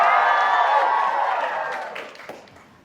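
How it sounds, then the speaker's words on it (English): A theatre crowd at a student classics play bursts into applause and cheering, a dense wash of clapping that starts loud and fades away over a few seconds. "And the crowd goes wild."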